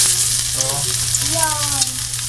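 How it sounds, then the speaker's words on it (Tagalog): Ginger drops into hot cooking oil and fries with a loud, continuous close-up sizzle, while faint voices murmur underneath. "Medyo mainit na yung mantika. Lagyan natin ng luya."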